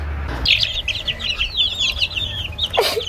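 A chicken clucks in a rapid run of short, close, fairly loud calls, with a sharper squawk near the end.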